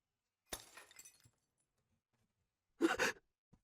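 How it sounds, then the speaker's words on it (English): Glass shattering in the Chaos;Child visual novel, heard as two sharp crashing bursts separated by silence, the second louder and brighter, with a faint tinkle after. "Was that the sound of glass breaking?"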